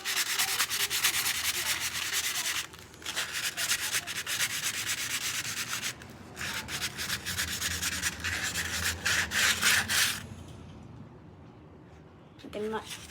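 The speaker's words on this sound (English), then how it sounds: "The very end is still pretty rough, so we're just gonna sand that too." Rough end of a whittled wood carving being sanded by hand, rapid continuous back-and-forth rubbing strokes close up, with brief pauses and a quieter stretch at the end.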